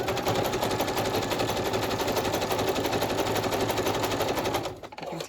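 A sewing machine stitches altered packaging into an envelope, a loud, fast, rapid-fire mechanical rattle running continuously up close before stopping abruptly near the end.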